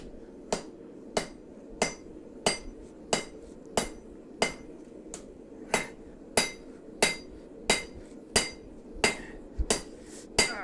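A knife handle is hammered out in a steady rhythm of roughly a dozen and a half sharp, close metallic strikes over a faint background hum.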